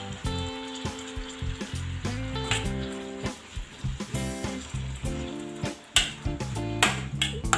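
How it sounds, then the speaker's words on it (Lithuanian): Button mushrooms fry gently over low heat in a pan with pork cracklings and seasoning, a quiet sizzle with occasional utensil clinks beneath prominent background music. "Nu, tegul dabar kepa ant mažos ugnies,"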